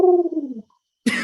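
A human voice imitates a dove or pigeon cooing with a low, wavering hum that trails off, followed after a short silence by the start of a breathy sound.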